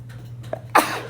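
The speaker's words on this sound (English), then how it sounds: "Go sneeze." A single sharp, explosive sneeze bursts out after a short intake of breath, over a low steady hum.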